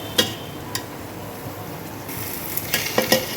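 Rice for plain white pulao fries in oil with spices, giving a steady low sizzle broken by several sharp scrapes and clinks of a spoon stirring against the pan, close and fairly quiet.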